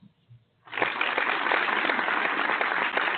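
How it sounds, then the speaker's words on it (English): Studio applause on a barbershop talk radio show kicks in abruptly after a brief quiet moment and then holds as a steady, dense clapping wash to the end, with no talk over it. "Let's applaud Jim."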